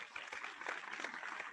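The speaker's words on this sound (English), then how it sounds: "Yeah, you can give a round of applause." Faint, steady applause from a conference audience at a university closing session, a soft continuous patter of many hands lasting a moment with no voices over it.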